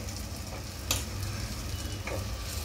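Pigeon peas drop into masala frying in hot oil, a continuous close sizzle broken by a couple of sharp bursts as they hit the pan and get stirred.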